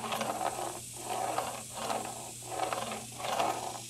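A porch panel rolls along a cleaned angle-iron track, a soft, steady mechanical whir with a gentle rhythmic pulse repeating roughly every second, fairly quiet and uninterrupted.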